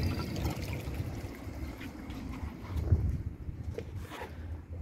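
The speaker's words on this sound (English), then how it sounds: "I'm gonna add some water to the bowl" Water poured into the bowl of a 2000 Crane Metro toilet, a steady close splashing trickle lasting several seconds with a brief louder gush near the middle.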